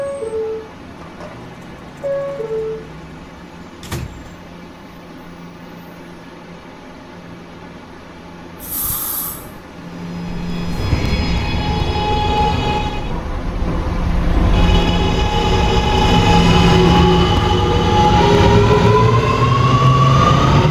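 An R211A E subway train on a New York line running between stations, a steady rumble and rolling roar building louder in the second half after quieter stretches with brief higher squeals.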